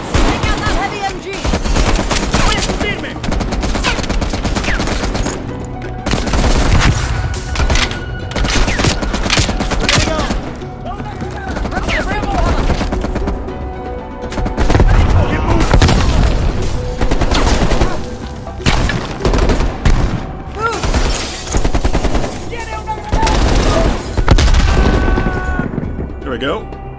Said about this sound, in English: Take out that heavy MG.